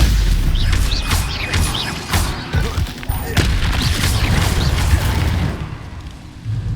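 A Confringo fire spell cast in the Hogwarts Legacy game, heard as a series of loud booming blasts and crackling impacts layered over dense battle noise, with game music and effects throughout.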